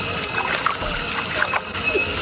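Someone wades through river water in the jungle near a hidden cave waterfall in Tembuku, Bangli, Bali, with close irregular sloshes and splashes over steady flowing water.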